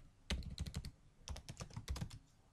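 Keystrokes on a computer keyboard come in two quick bursts of close, crisp tapping separated by a short pause, while text is entered for an admin panel login page.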